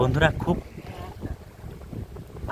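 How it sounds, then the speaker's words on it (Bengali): Strong wind gusts buffet the microphone on a riverbank during fishing, with a voice speaking at the start and end of the clip. "খুব হাওয়া হচ্ছে"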